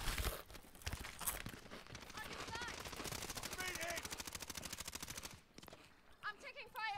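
Rapid automatic gunfire in a multiplayer shooter video game, dense bursts of shots rattling for several seconds, followed by a few sharper cracks, with a voice briefly heard.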